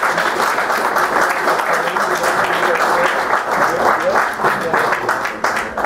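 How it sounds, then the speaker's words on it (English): An audience at a public talk gives a loud, sustained round of applause, dense clapping throughout with voices mixed in. "go ahead and give her a round of applause"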